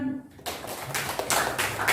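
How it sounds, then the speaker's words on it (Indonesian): Students in a classroom break into applause after a short lull, a dense burst of clapping that swells and carries on to the end, with a voice mixed in. "Tepuk tangan."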